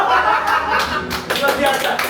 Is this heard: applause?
yes